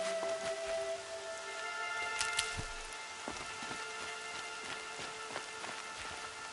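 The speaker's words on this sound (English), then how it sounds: "Rain's not so bad." Rain falls steadily in Horizon Zero Dawn, a soft even patter of drops on surfaces with scattered sharper taps, a faint low tone running underneath.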